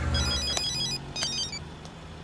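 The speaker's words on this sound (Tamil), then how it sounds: "சார் கமிஷனர் ஃபோன் பண்றாரு." A telephone rings in short repeated bursts, fairly close and clear, with no talking over it.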